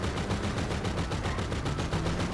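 Rapid automatic gunfire in GTA Online rattles on without a break, loud, close and dense, with quick repeated shots blurring into one sustained barrage and no voices.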